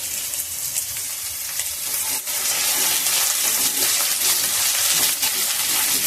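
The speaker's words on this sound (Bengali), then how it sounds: "আলুটা একটু লাল করেই ভাজতে হবে।" Potato pieces fry in oil on a medium gas flame, giving a dense continuous sizzle with occasional stirring clicks, loud and close with no voices.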